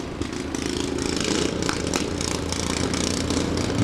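At a demolition derby, a battered car engine runs rough and starts to misfire, a continuous loud, ragged mid-pitched drone with uneven sputtering bursts throughout.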